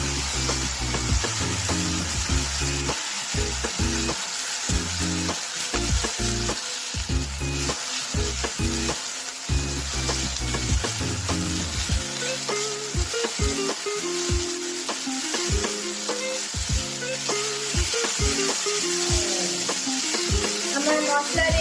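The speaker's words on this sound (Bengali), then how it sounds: "এটা নাড়ার পর মশলাটা যখন দেখবো তেল ছেড়ে এসছে" A spice paste fries in oil for a Bengali chickpea dal, with a continuous loud sizzle broken by repeated scraping stirs of a spoon against the pan, close and steady with no talking.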